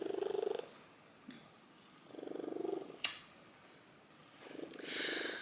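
A domestic cat purring close up, soft rhythmic rumbling in several bursts with quiet gaps and a brief click between, fairly faint and without speech.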